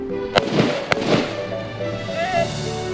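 Two sharp, loud gunshots about half a second apart crack out during a Thai marine ranger recruit rapid-fire drill from the kneeling position, with a faint voice in the background.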